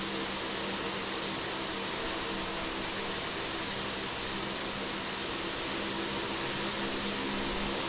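A Bella air fryer with no heat fault runs on a bench during testing, a loud, steady whooshing fan roar with a faint tonal hum underneath, constant and close throughout.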